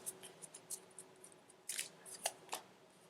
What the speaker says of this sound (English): I'm going to draw card 1